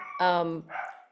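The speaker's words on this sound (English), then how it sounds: "Sorry, that's my dog." A household dog lets out one loud, close bark followed by a shorter, softer yelp, with the front door open during an online call.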